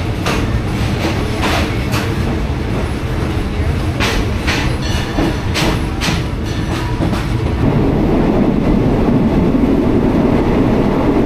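A third-class passenger train running toward Chumphon, Thailand, heard from inside: a loud continuous rumble with rhythmic wheel clatter bursts over the rail joints, close and steady throughout.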